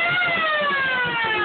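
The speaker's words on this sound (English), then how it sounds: "And a siren." A siren mounted on a modified hillbilly-style car sounds loud and close, a steady wailing tone that slides gradually downward in pitch for a second and a half.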